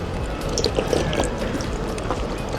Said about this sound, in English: it looks like that gives me just about enough time to go to the water fountain